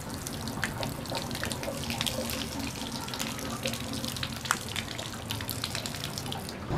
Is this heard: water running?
yes